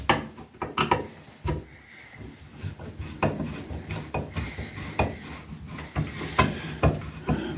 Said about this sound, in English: now you can unscrew this and take the plate off.